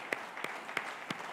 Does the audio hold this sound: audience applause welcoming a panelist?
yes